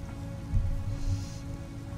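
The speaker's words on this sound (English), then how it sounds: "I remember the rain." Rain falls in a sad video game, a soft steady wash of drops over a low droning tone, with a couple of dull thumps partway through and no voices.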